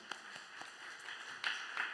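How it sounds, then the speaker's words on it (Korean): A church congregation claps in a steady rhythm, faint and a little distant, over a sustained tonal background. "박수."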